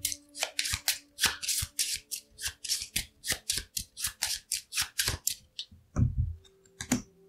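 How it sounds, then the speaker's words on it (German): A deck of cards is shuffled for a board game, a steady run of quick riffling bursts close up, followed by a couple of softer taps and thumps at the end. "für den vierten Milizen müssen wir wieder das Kartendeck mischen"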